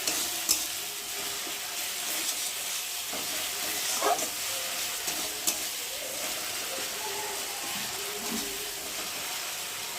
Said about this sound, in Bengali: তো হালকা করে ভেজে নেবো সর্ষেটা, কারণ বেশি ভাজলে তো তেতো হয়ে যাবে।